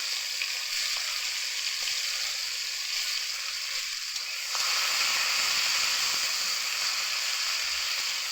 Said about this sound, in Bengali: প্রথমে কিন্তু বিনসটা ভাজা করে নেব, তো সেই জন্য কিন্তু বরবটিটা দিয়ে দিচ্ছি